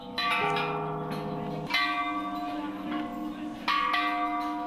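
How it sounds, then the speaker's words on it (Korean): People strike temple bells at a Buddhist temple in Chiang Mai, Thailand, with three distinct metallic strikes ringing out and sustaining, each new clang overlapping the fading hum of the last. "종소리를 따라가 보니 이번엔 종을 치는 사람들이다."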